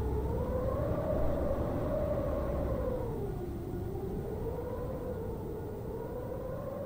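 An ambulance siren in the video game Frosty Night 2 wails steadily with slowly rising and falling pitch, sounding distant and moderately quiet, with no talk over it.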